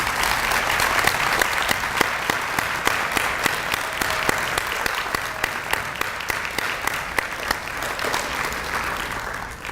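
Steady applause from a sizable audience at a university honors convocation, dense clapping holding at an even level throughout without cheering.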